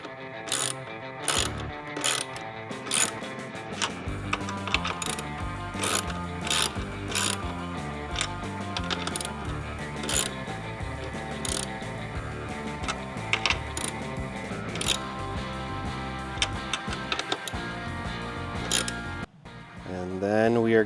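Ratchet tightening the mounting bolts of Hogworkz lower vented fairings on a Harley Softail: a long run of rapid, close, crisp clicks with short bursts and brief pauses, steady and fairly loud throughout.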